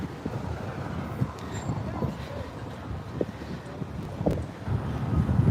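Gusty outdoor wind buffeting the microphone on a city street in Philadelphia, a low rumbling roar that swells and builds toward the end.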